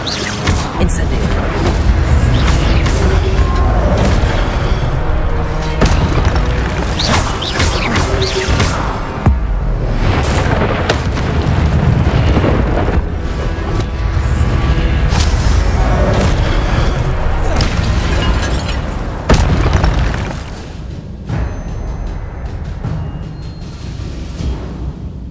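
An Incendio fire spell in Hogwarts Legacy goes off in a dense, booming burst of fiery blasts and crashes. The sound stays loud and continuous for about twenty seconds and then eases off toward the end.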